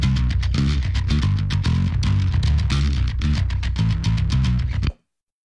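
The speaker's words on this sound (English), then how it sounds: "what you're hearing is my Dingwall combustion bass, 5-string bass" A Dingwall Combustion 5-string bass guitar plays a steady, loud line in a metal mix, with dense repeated low notes and sharp percussive hits running for about five seconds before cutting off abruptly.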